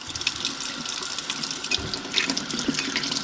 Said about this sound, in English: now we're going to rinse them off with warm water